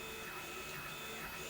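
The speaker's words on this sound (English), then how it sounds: "Again, sorry about the printing noise." A printer runs in the background during a BBC Model B computer restoration, a faint, steady mechanical whir with a smooth hum and no talking.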